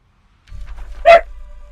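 A pet puppy lets out one short, sharp bark partway through, rising briefly above a steady low hum that runs underneath.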